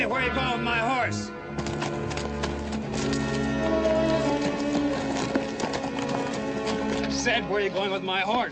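Horse hooves clip-clop in a Western film scene, blended under voices and a busy musical score, with a neigh-like cry near the start.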